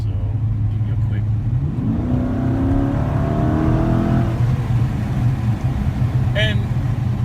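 A Dodge Challenger Scat Pack with a shaker hood accelerates hard, its engine note rising steadily in pitch through the run as a loud, close roar over road and wind noise, with a brief sharper whine near the end.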